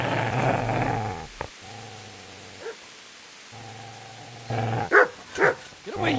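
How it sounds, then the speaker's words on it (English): A dog in the medieval role-playing game Kingdom Come: Deliverance growls low in two long stretches, then lets out several sharp barks near the end, loud and close. "Get away, you mutt!"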